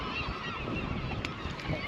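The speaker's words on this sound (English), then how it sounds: "We've had a chorus from these birds." A chorus of guillemots and razorbills calls from the sea cliffs at Cruden Bay, a dense, harsh, honking clamour heard from a small fishing boat at a moderate distance.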